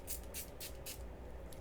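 Makeup setting spray hisses out in several short, quiet bursts with brief pauses between them, over a faint low background hum.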